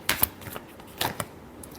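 Tarot cards being shuffled for a Libra love reading, a few quick papery riffles and soft flicks in close bursts with brief pauses between, with no talking.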